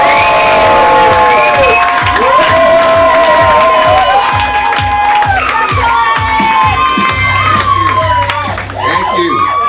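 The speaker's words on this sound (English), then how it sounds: "Big round of applause for Coyne." A comedy club crowd at a stand-up night greets the next comic with loud applause, whoops and cheering. The noise is dense and close and holds steady for nearly ten seconds, with shouted voices over the clapping.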